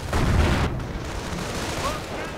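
Assault grenades burst in a strategy video game: a heavy, booming blast up front gives way to a rumbling tail and a scatter of smaller impacts and crackles, loud and dense.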